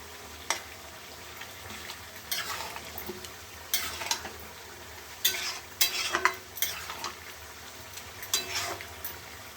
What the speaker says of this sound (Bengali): আর মশলাটা কষে নিই, একটু অনেকক্ষণ কষতে হবে